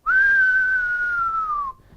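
A person whistles a long descending tone in imitation of an incoming mortar bomb, steady and loud for well over a second and a half before cutting off, with no talking.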